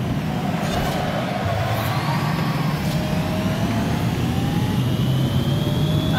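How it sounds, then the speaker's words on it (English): Interior of a new Ford Mustang electric while driving: a steady broadband road and motor roar with faint rising whine tones, continuous and loud throughout, no voices. "Trying to talk over that electric powertrain so you don't have to listen to it."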